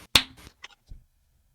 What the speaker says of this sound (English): One clap for June.